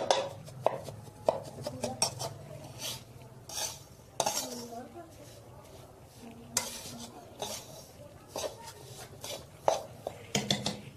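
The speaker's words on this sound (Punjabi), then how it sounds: "ਇਸ ਤਰ੍ਹਾਂ ਮਿਲਾ ਲੈਣੀ ਆਪਾਂ ਖੰਡ ਐਵੇਂ ਕਰਕੇ" Sugar being mixed into atta ladoo mixture in a pan in a Punjabi village kitchen, giving repeated scraping, clinking and stirring knocks of a utensil against the pan, close and fairly quiet, with no talking.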